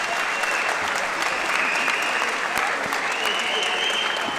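A boxing crowd at York Hall applauds in a dense, steady wash of clapping, sustained throughout with a commentator's voice faintly underneath.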